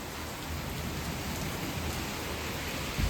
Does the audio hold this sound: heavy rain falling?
yes